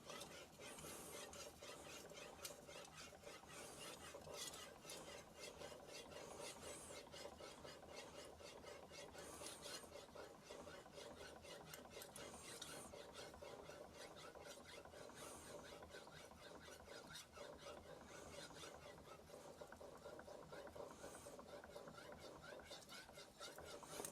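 A chef knife is polished on a Suehiro Gokumyo 20k grit whetstone, giving a faint, steady wet rasping with repeated back-and-forth strokes, quiet and close.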